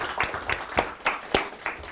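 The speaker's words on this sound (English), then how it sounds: "big applause for Edge for hosting the space" A handful of scattered handclaps from a small audience applauding the hosts, Edge, at a DEVxSD tech meetup. The claps are sparse and uneven, about six of them spread over two seconds, fairly faint.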